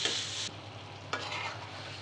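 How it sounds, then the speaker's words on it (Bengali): Chicken curry cooks in a pan with a soft, steady sizzle and a quick scrape of stirring partway through, quiet and close with no talking. "মুরগি রান্না হচ্ছে"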